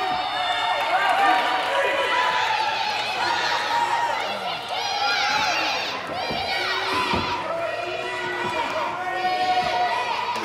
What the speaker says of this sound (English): And the peanut head chant starting